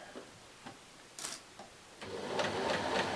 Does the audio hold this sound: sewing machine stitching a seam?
yes